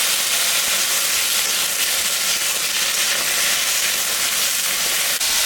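Vegetable curry with tomato frying in a pan makes a steady, loud broadband sizzle and hiss that runs unbroken throughout, close up with no talking.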